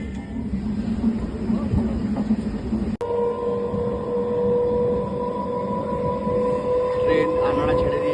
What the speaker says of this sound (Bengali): ট্রেন আনাড়া ছেড়ে দিয়েছে।